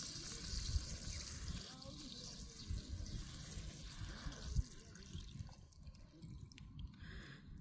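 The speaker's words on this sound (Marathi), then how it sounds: "तुम्ही पाहू शकता इथे पाणी थोडं लीक होत आहे" Water dripping and trickling from a loose joint on a drip irrigation pipe on a farm, a faint, steady patter of small drips and splashes close by, with outdoor background noise throughout.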